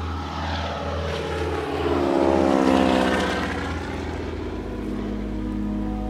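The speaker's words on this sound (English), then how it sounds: "boarded a float plane to head to a new river" A float plane's propeller engine drones loudly and steadily close by, swelling briefly in the middle before settling back to an even roar, with no voices over it.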